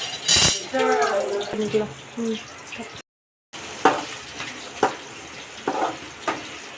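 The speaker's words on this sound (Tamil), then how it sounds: "முட்டையை நல்லா பொரியல் பண்ணி வச்சுக்கலாம்" Eggs frying in a pan, a steady close sizzle that runs beneath a voice at the start and then carries on after a short gap, broken by a few sharp clinks of a utensil.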